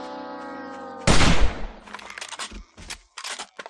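Gunfire in the zombie survival video game 7 Days to Die: after a sustained tone, one loud close shot bursts out, followed by a scatter of sharper, shorter cracks and impacts.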